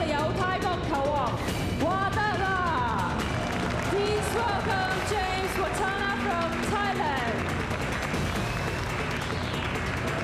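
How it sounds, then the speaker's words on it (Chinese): Spectators applaud to welcome a snooker player at the 2007 Euro-Asia Snooker Masters Challenge in Hong Kong, continuous clapping and crowd noise running under a loud announcer's voice and music. "请以热烈的掌声欢迎"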